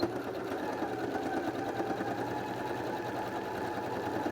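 A sewing machine stitches a tablecloth border in one continuous run, a close, steady mechanical hum with a rapid even needle rhythm that stops abruptly at the end, with no talk.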